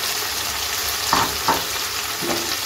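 Katla fish fried in a pan on low gas, with its spice mixture added and sizzling: a steady close frying hiss with a few brief scraping stirs.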